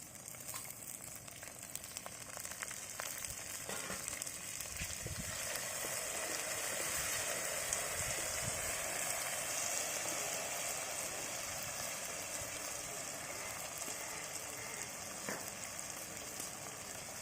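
Mustard seeds, chillies and curry leaves sizzling steadily in hot oil for Andhra gongura pachadi, a dense continuous crackling fry with faint pops, close and unbroken throughout with no talking.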